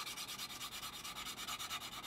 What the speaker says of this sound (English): a nice light sand with our coarse sanding stick all the way along